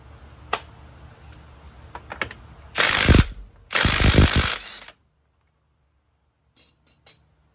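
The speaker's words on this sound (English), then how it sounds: "we gotta get this big nut off" A hand wrench works a big axle nut loose, giving two loud bursts of rapid ratcheting clicks with scattered metal clinks before them and a couple of faint taps after a quiet stretch.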